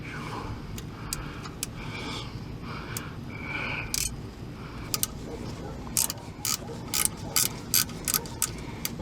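A ratchet clicks while working a stubborn bolt on a Dodge Caravan AC compressor, with scattered scraping at first and then a run of sharp, close clicks in short bursts toward the end.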